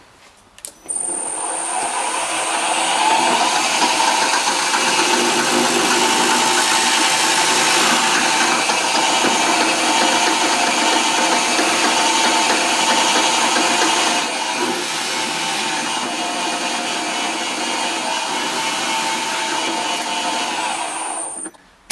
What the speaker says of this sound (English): So let's go ahead and drill these.